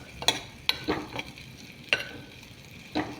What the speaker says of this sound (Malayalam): പാവയ്ക്ക ഇതിലേക്കിട്ടു.